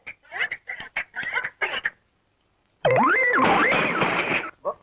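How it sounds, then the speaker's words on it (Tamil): A run of short clucking bursts from chickens being fed, a brief pause, then a loud wobbling, sliding cartoon-style tone with a final cluck. "கோழிக்கு தீவனம் போட்டுட்டு இருக்கேன்"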